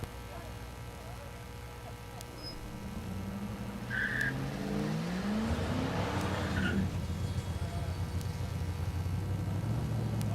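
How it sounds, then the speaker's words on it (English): Street cars drag racing at Mid America Dragway in Geuda Springs, Kansas, engines rising from a distant rumble to a louder, sustained roar as they launch and pass. "Streetcar drag racing"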